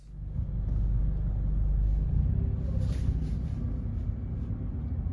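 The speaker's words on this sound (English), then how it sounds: "Always traffic in LA, so good thing we left a little bit early." Road traffic in Los Angeles, a low steady rumble of passing cars heard from inside a vehicle, moderately loud with no talking.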